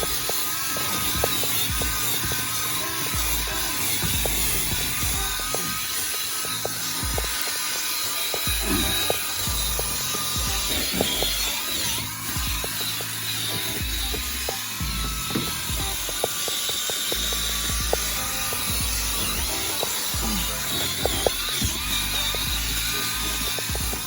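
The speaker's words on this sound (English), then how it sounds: "just go ahead and use my drill brush" A drill-driven scrubbing brush working over dirty, debris-filled car carpet inside a vehicle, a whirring motor with irregular rough scrubbing and bursts of bristle scraping, varying in load, no talking.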